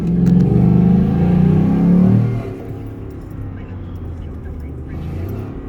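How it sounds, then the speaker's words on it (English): A Ford Raptor pickup shifts down through its automatic gears while driving, a loud engine drone falling away after about two seconds into a lower, steadier rumble heard close from inside the cab. "Downshifting by herself."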